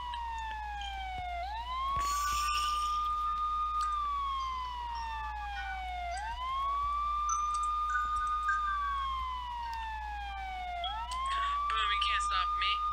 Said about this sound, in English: Let's get the police sirens going